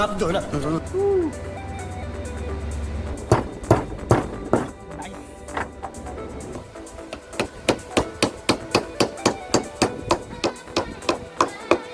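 A hammer strikes the edges of a workpiece again and again, in sharp regular knocks that speed into a steady rhythm near the mic. Background sound runs between the blows, with no clear talk.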